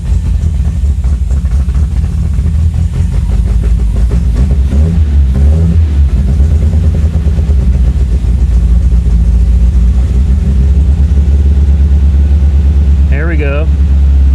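A 1975 MGB engine, run again after sitting for 16 years, idles steadily and fairly smoothly up close, a low constant rumble with someone talking over it.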